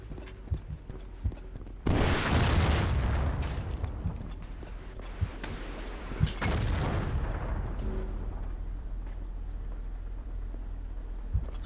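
Bombing explosions in Battlefield 1942, two heavy, rumbling blasts a few seconds apart that each fade slowly, with scattered gunfire pops and distant battle noise around them.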